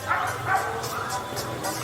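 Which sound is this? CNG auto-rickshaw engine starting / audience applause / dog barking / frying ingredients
dog barking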